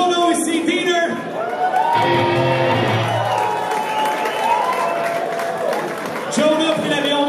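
A punk rock concert audience applauds and cheers for a guest player, whoops and shouts rising over steady clapping while an announcer keeps talking over the noise.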